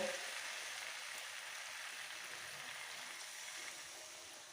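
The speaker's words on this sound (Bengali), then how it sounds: "এবারে জল দিয়ে দেব" Water poured into a pot of chicken and potato curry gives a steady close rush and hiss that slowly fades over a few seconds.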